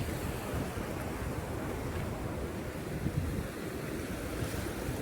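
Steady, rushing flow of floodwater, a broad continuous roar with wind buffeting the microphone and no voices.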